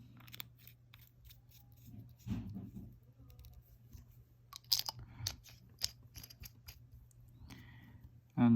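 Small close-up clicks, taps and scraping handling noises from a Monteverde Invincia fountain pen being put together, scattered irregularly and fairly quiet over a low steady hum.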